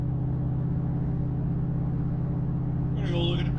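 A steady, loud low drone of engine and road rumble fills the cabin of a Buick nicknamed Blanche on a long highway drive, unbroken and constant throughout.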